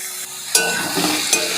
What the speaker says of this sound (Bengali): এবার ভালো করে একসঙ্গে সবগুলো কষিয়ে নেব মশলার সঙ্গে সুন্দর করে আলুটাকে